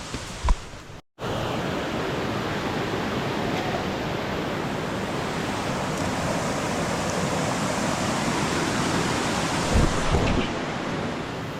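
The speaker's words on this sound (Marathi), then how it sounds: "ही अशी नदी क्रॉस करून आपण चाललोय आता गुप्त भीमाशंकरकडे." River water rushes loudly and steadily while crossing a jungle river on a night trek to Gupt Bhimashankar. A continuous broadband roar with no voices, broken only by a brief dropout near the start.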